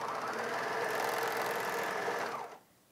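A Bernina 700D serger runs steadily while sewing a curved seam in fabric, a dense fast whir that holds for about two and a half seconds and then stops, leaving near silence.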